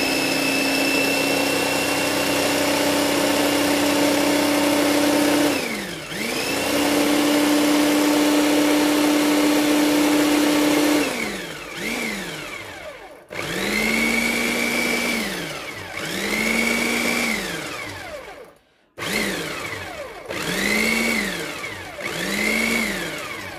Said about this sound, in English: Now I got everything in the fruit processor